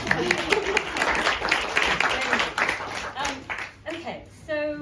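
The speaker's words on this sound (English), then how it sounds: "And now you can clap." A theatre audience claps at a post-show talk after a play, with steady applause from many hands for several seconds that thins out near the end while voices come through.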